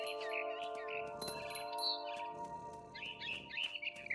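A mother bird chirps in the video game What Remains of Edith Finch, with bright repeated tweets and short trills over a steady tonal game backdrop and occasional chime-like dings, moderately faint.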